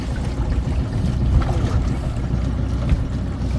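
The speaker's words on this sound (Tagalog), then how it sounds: "Grabe ang tunog ng makina." A boat engine runs steadily on a river, a continuous low drone mixed with wind and water noise, close and fairly loud with no talking.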